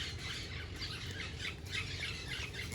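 Parrots squawk and squeal at a snail farm in Zakarpattia, faint and somewhat distant, with repeated harsh calls over a constant hiss of background noise.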